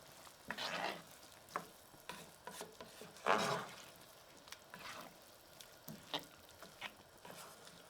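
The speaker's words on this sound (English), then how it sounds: "You can see the tomatoes starting to cook down and break down." Tomatoes sizzle and cook down in a stew pot for a white bean, kale and sausage stew, giving a steady soft frying hiss with scattered stirring scrapes and one louder burst midway, with no talk.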